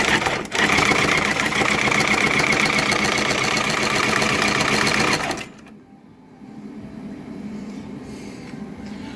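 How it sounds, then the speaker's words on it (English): A shaker motor in an After Burner arcade cabinet drones loud and steady for about five seconds, then cuts out abruptly, leaving a fainter, lower hum and quiet room noise. "here's the shaker motor. It's running non-stop"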